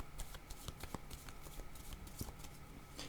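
A deck of tarot cards is shuffled close up in a quiet room, giving rapid, irregular riffling flicks and soft slaps over about three seconds.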